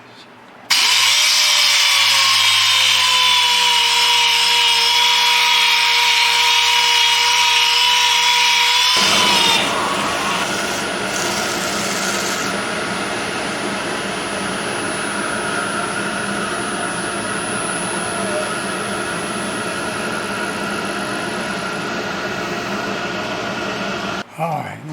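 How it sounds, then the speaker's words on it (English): A wooden bowl is sanded with a power tool: a loud, steady motor whine gives way to a continuous coarse abrasive hiss that runs close and unbroken to the end. "We'll do a little sanding here."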